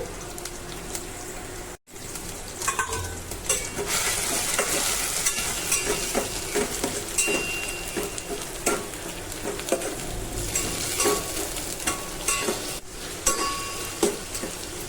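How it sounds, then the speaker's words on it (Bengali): Chili paste and garlic paste frying in a pan, with a continuous crackling sizzle and repeated scraping stirs of a spatula, close and fairly loud throughout, with one short gap near the start. "বাটা মরিচ এবং বাটা রসুন দিয়েছি। এটা একটু ভেজে নেব যাতে কাঁচা গন্ধটা চলে যায়।"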